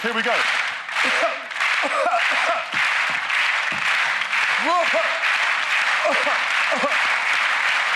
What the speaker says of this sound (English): can I please have a slow hand clap from everybody as we attempt to do this